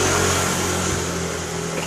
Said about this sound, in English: sorry about the motorcycle that drove by